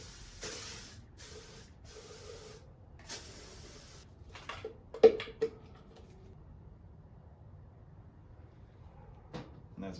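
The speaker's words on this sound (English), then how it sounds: "I'm going to spray some WD-40 down on top of the back sides of the intake valves through the lower intake manifold." WD-40 sprayed from a can onto the backs of the intake valves through the lower intake manifold of a VG30DE engine: four short hissing bursts, then a few scattered clicks and knocks. No talk.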